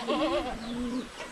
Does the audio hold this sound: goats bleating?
yes